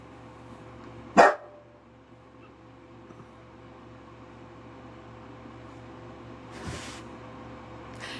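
A dog gives a single sharp bark indoors, loud and close, followed several seconds later by a quieter second bark over a low steady hum.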